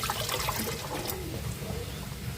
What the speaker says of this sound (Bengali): কাসকি মাছটা ভালো করে ধুয়ে নিলাম